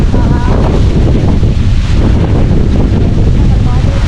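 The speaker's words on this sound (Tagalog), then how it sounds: "Malakas na hangin." Strong wind buffeting a microphone on a fishing boat out at sea, a loud, constant broadband roar with water noise that fills the whole clip, with voices faintly mixed in.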